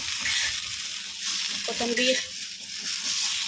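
Coriander fries in the leftover oil on a hot tava after cooking stuffed masala brinjal, giving a continuous close sizzle and crackle under a person's speech.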